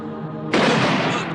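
Gunfire in an Indonesian TV drama set against Dutch soldiers, bursting in suddenly as a loud, dense volley of shots after a moment of quieter sound.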